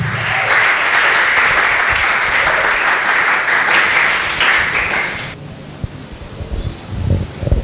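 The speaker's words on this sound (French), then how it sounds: "Est-ce qu'on peut acclamer pour le salut accompli dans la première étape?" A church congregation applauding: dense, loud, steady clapping from many hands that cuts off abruptly, leaving quiet room tone with a few scattered sounds.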